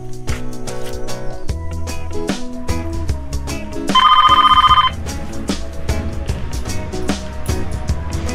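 A telephone ring bursts in for about a second amid a busy musical background, a bright, steady electronic trill that stops abruptly.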